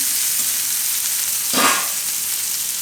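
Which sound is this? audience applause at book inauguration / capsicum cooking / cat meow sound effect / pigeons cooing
capsicum cooking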